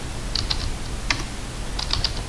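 A few quick keystrokes on a computer keyboard while working in a Linux Ubuntu terminal, close-up clicks in small clusters over a steady low background hum.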